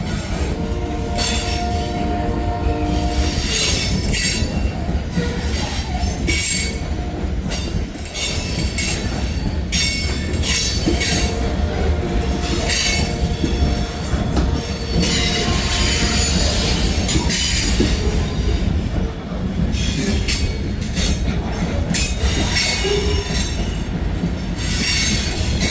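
A heavy freight train rolls steadily past at close range on a cold, windy morning in Hamilton, wheels squealing in long high tones over a constant loud rumble and rattle of cars, with no break for its whole length.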